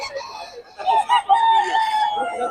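A young rooster, a stag, crows loudly and close by, one strained, wavering call running about a second and a half, with a little background talk around it.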